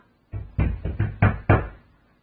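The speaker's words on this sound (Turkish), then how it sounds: "Ya ne çalıyorsunuz kapıyı ya?" Knocking on a door in the video game GTA Vice City: five firm knocks in a quick, slightly uneven rhythm, close and clear, with no voices over them.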